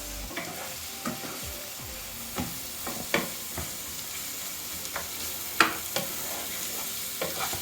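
Onions stir-fry in a pan for pad kra pao, a soft sizzle under repeated scraping and knocking strokes of a spatula moving them around, close and fairly quiet.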